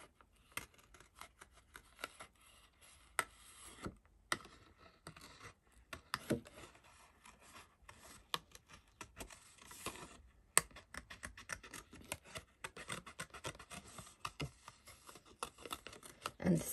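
Scissors cutting out a paper butterfly for a handmade card, with many quiet close snips and rustling paper in an irregular, steady rhythm.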